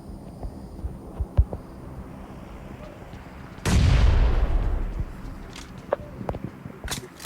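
A grenade in BGMI detonates loudly partway through, a deep booming blast that rumbles for over a second, with scattered faint footsteps and clicks before and after.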